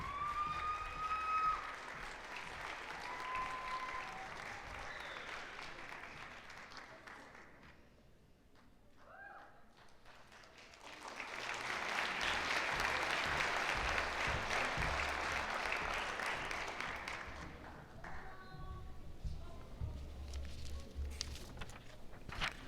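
Audience at a university management school graduation ceremony applauding new bachelor's graduates, clapping that swells, dips to near quiet midway, then rises again into a full, sustained round of applause.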